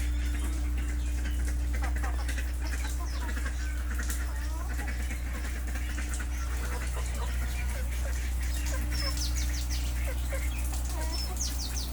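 Native ducks and chickens, eight ducks now down to seven with one having been ill, kept together in a shelter: scattered chirps and clucking calls come and go over a steady low hum, with some talking nearby.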